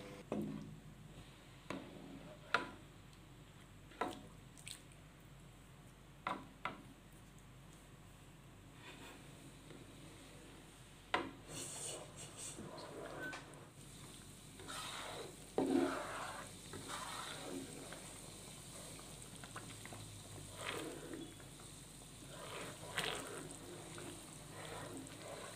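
Coconut milk simmering and bubbling softly in a pot for gulai babat, with scattered spoon scrapes and clinks against the pan as it is stirred steadily.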